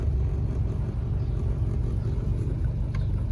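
An Acura Integra engine idling low, a steady deep rumble close by with no voices over it.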